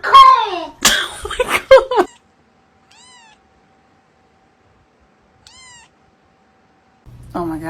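A house cat meows twice, faint and well spaced. Lively voices and laughter come before the meows and again at the end.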